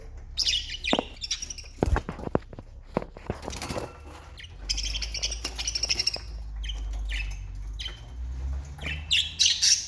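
Lots of budgerigars and a couple of parrots, twelve birds in a hair salon, chirping and squawking at once, shrill and busy, with sharp bursts and a steady twittering chorus close by.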